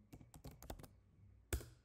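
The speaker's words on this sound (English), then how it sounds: "Okay, I'm typing password again." Quick bursts of keyboard typing, several clicks in a row, then a pause and one sharper keystroke like a final enter press. Close and fairly quiet.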